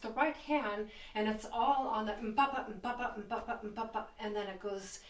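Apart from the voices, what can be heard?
No everyday noises stand out.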